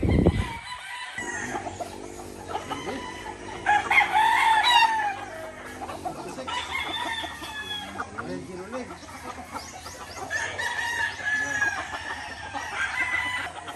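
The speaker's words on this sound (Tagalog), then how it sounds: "Nagtitingin sila ng mga manok na panlaban nila." Several fighting roosters at a gamefarm crow and cluck at a moderate distance, overlapping calls rising and falling against low background noise.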